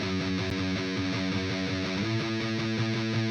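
An electric guitar pitch-shifted down four semitones with THU plays steady distorted chords, strummed in an even repeating rhythm, thick and close with no voices.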